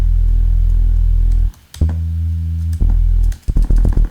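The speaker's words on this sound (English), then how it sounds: "So next up in the effects tab is the filter, because we need to get that plucky sound with a big attack." A synth lead built in Serum with a filter LFO holds a wobbling tone, then pauses before bright, plucky notes with sharp attacks arrive in quick succession.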